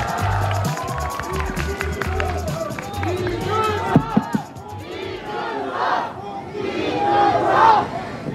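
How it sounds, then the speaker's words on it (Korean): A crowd of supporters at an outdoor street election rally in Hongdae, Seoul claps and cheers as the party leader is introduced, with shouts and whoops rising over ongoing clapping and a voice on a loudspeaker. "큰 박수 부탁드립니다."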